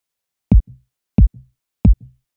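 Heart Wrench synth patch auditioned in the Reason+ Companion app: three evenly spaced, deep double thumps like a heartbeat, each a strong hit followed by a softer echo, with silence between.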